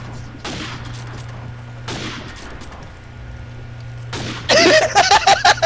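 Gunfire in Call of Duty 4 bursts out as a rapid volley of loud shots near the end, after quieter stretches of game background and faint sounds.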